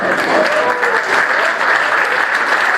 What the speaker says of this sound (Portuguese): Quantos podem dar um aplauso ao Senhor?